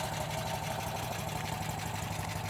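A 1968 DAF 33 car's 750cc two-cylinder air-cooled engine idles steadily with a rapid, even, buzzing pulse, heard fairly faint and alone without talk.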